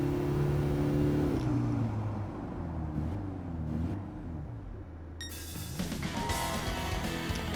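Race car in Gran Turismo 7 on PS5 driving hard with a steady engine roar that drops and shifts as it brakes, then a brighter noisy burst toward the end, loud and continuous.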